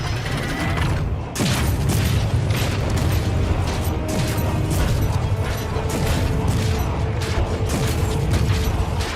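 Turrets on a hunter ship being shot and destroyed in the Squadron 42 space combat video game, a dense continuous roar of mechanical gunfire and rumbling bursts, loud and unbroken throughout.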